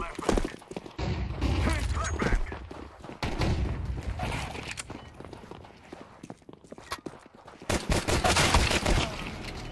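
Gunfire in Counter-Strike 2 during a match: rapid, close shots and bursts rattle irregularly amid footsteps and mechanical clatter, with players talking over the action.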